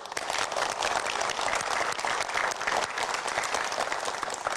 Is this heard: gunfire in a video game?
no